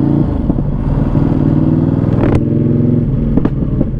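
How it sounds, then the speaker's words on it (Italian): Ducati Panigale V2 motorcycle engine accelerating hard, a loud close growl with pulsing revs and sharp pops and clatter between gear changes. "quello che si può subito notare da questa moto, oltre al baccano che è proprio veramente troppo illegale"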